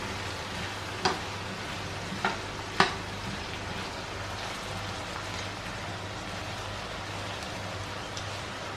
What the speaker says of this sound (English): I will add spices. And I will mix everything.